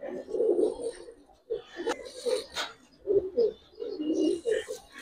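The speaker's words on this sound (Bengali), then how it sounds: "একটা লাল মুসালদম নর কবুতর" A red male pigeon coos in repeated throaty bursts, close and clear, with short pauses between phrases and a few faint chirps around it.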